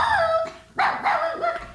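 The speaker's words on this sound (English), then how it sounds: "a dog barking" A dog gives a quick run of short, close barks and yips, with whimpering tones between them, all in under two seconds.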